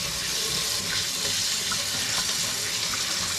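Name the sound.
rinsing brined trout fillet under running tap water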